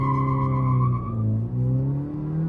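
An i20 N-line races a Honda City from a standing drag start with traction control off. Tyres squeal as the wheels spin and an engine drones with steady harmonic tones, rising slightly in pitch, loud and near.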